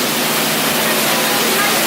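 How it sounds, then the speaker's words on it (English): Schweitzer Falls, a waterfall on the Jungle Cruise ride at Disney's Magic Kingdom, sends a steady, loud broadband rush of falling water that fills the whole stretch without a break. "up ahead, this is the beautiful Schweitzer Falls"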